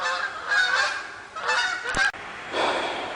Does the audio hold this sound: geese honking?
yes